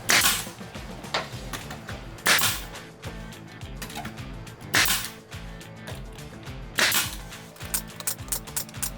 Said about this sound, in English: Then I'm just going to use a nail gun.